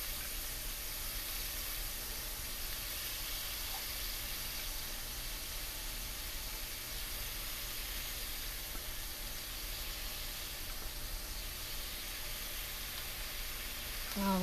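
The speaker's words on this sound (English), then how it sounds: "we're just going to put these in the pan" Scallops searing in a hot pan, a steady broadband hiss and sizzle running unchanged throughout at moderate level.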